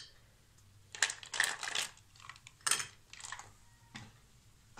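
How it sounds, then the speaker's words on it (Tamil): Two ice cubes drop into a glass of palmyra fruit (nungu) sarbath, giving a few close, bright clinks and knocks in quick succession over about four seconds, with no talking. "இப்போ இதோட சேர்த்து 2 ஐஸ் கியூப்ஸ் போட்டுக்கோங்க."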